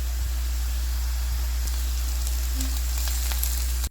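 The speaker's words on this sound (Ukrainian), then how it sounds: "Засмажку смажу до м'якості овочів, додаю сіль та перець, перемішую" Steady, even sizzling of vegetables frying in a pan with salt and pepper, a constant hiss with faint crackles, close by and uninterrupted.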